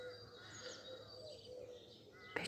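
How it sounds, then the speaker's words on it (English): A pigeon calls at dawn in an urban area, soft cooing tones layered over a quiet chorus of other birds and faint background hum. "pigeon,"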